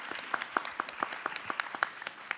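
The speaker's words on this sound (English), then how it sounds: "Let's give the big applause for the panelists." Quick, evenly spaced hand claps ring out in a steady rhythm at a conference panel discussion, a small burst of applause with no talking.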